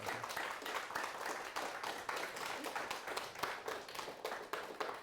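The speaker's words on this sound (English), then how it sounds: "You can give me your applause." Applause from a conference audience after a talk on copyleft enforcement, irregular claps from a modest crowd with individual hand strikes standing out, sustained at moderate volume.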